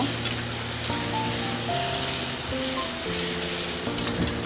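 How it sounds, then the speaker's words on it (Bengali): Marinated mustard chicken sizzles loudly in hot oil in a pan while being stirred, a dense steady fry with occasional scraping clatters of the spatula, close and continuous with no talking. "এবার আমি ম্যারিনেট করে ভালো করে কষিয়ে নেব"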